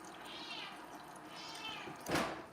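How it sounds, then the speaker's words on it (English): A house cat meows twice in drawn-out calls, then gives a sharper, louder cry at the end, heard up close and alone. "And Gracie, the kitty, is up, crying and saying hi"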